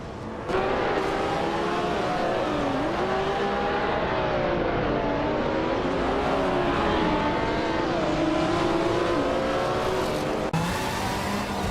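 A 1979 BMW M1 race car in a racing video game, its engine droning loud and steady for several seconds, pitch rising and falling through gear changes as it holds pace, with no talk.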